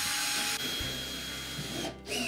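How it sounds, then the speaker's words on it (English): A power driver whines steadily as it tightens long screws on a Whirlpool washer during a bearing repair, a brief close buzzing run with a short pause near the end. "And we're going to tighten those long screws."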